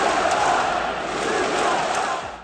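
A home arena crowd at an NBA playoff game chants a taunt at Luka Dončić of the Mavericks, a dense, loud, steady roar of many voices filling the whole clip.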